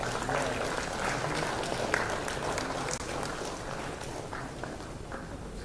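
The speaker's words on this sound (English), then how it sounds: "Please give a big round of applause." Audience applause at a management institute convocation as a medal winner walks to the stage, steady moderate clapping from a distant hall that continues evenly throughout.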